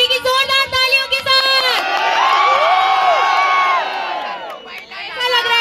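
A crowd greets the arrival of Hindustani Bhau with loud cheering, shouts and whoops, swelling into a sustained roar before dipping and rising again.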